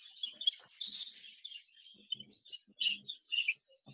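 Two young birds, a pied hen and a cock, chirp and twitter in a breeding box, a steady run of high, quick tweets and calls close by with no talking.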